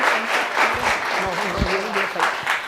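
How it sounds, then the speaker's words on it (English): An audience claps through the whole stretch, with a voice talking over the applause at the same time. "I think that deserves a huge round of applause, y'all."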